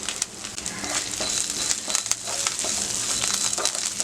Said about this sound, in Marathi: मिक्स केलेले साहित्य सगळं ओतून घेऊया। परतून घेऊया चांगलं।